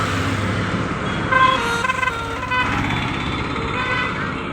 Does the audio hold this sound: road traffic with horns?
yes